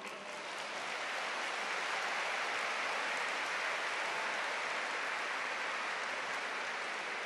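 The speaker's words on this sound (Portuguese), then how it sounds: "Mulheres, aplaudam esses homens." Women in a Catholic Mass congregation clap for the men, a dense, steady wash of many hands that swells in the first second and holds loud and even to the end, with no voices over it.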